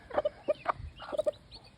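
Free-range gamefowl chicks and chickens cluck and peep in a quick scatter of short, soft calls, fairly close and faint, with no voices.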